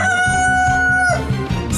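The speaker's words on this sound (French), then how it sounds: "C'est le chant de mon précieux coq." Cartoon rooster crowing in a single long, loud, sustained cock-a-doodle-doo call, tonal and up close, with bouncy cartoon music running underneath.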